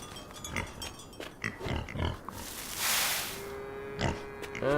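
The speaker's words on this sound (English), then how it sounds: "We've got our Berkshire pig." Berkshire pig in the farming game Farm Together grunts and oinks repeatedly in short bursts, with a rushing ambient swell midway and a faint steady tone near the end.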